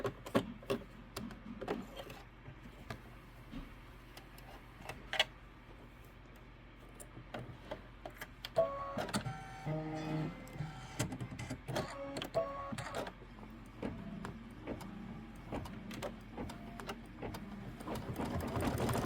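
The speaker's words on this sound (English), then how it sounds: "A minute of stitching." Sewing machine stitching leaves on a quilt, a faint mechanical whir with quick rapid ticking that starts and stops in uneven bursts, quiet and close, no voices.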